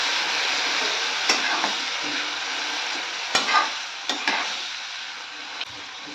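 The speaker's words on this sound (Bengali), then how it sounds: "এবার এর মধ্যে দিয়ে দেবো সর্ষে পোস্ত, সাথে এই হলুদ জলটা, আর এটাকে ভালোভাবে নেড়ে নেব" Mustard and poppy seed paste with turmeric water hissing steadily in a hot pan while a spoon stirs it, a continuous close sizzle broken by a few sharp scrapes and knocks.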